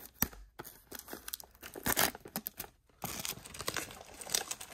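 Plastic shrink wrap tears and crinkles as it is stripped from a 2021 Topps Chrome blaster box, with close, quiet rips and crackles coming in uneven bursts and brief pauses.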